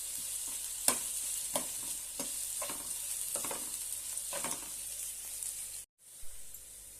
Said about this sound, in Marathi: एक कांदा बारीक असा उभा चिरून घेतलेला आहे तो घालूया तो पण छानपैकी तेलामध्ये